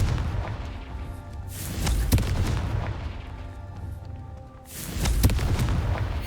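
Confringo spell explosions in the game Hogwarts Legacy: heavy booming blasts, one around the middle and a second strong burst near the end, over rumbling low background.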